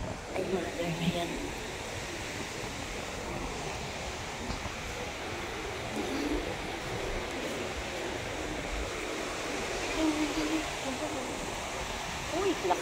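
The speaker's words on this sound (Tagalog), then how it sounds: "lakas ng alon" Strong ocean waves wash in a continuous broad roar on a beach at sunset, a steady surf noise with no clear voices over it.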